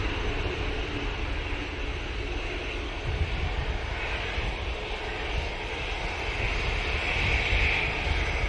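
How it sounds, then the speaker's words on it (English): An Emirates Boeing 777-200 on final approach at Manchester Airport gives a steady, moderately loud jet engine rumble and hiss that grows a little stronger toward the end, with no one speaking. "We have the next 777, which is the Emirates"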